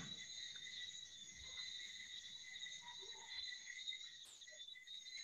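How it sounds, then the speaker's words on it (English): Crickets chirp continuously in a high, steady trill, faint and distant, with no talking. "I hear the crickets in the background."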